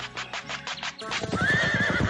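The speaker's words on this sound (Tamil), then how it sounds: "குதிரைங்க வர சத்தம் கேக்குது" Horses approach with a rhythmic clatter of hooves, then a loud, wavering neigh rises over the galloping, close and full, with no talk.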